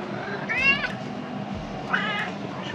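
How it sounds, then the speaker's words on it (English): Two housecats meow in drawn-out, attitude-laden cries, one around the middle of the moment and another toward the end, close by over low household background noise. "Our cats have some serious attitude this morning."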